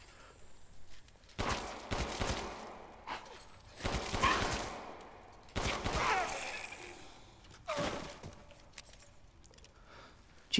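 Gunshots in Resident Evil Village fired at creatures on PS5, a few sharp bursts spaced across the span with quieter game ambience between them.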